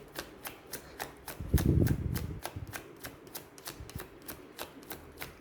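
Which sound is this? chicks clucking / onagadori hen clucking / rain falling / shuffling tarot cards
shuffling tarot cards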